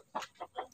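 Elba laying hen clucking in three short, distinct bursts, close and fairly quiet, with no other sounds around it.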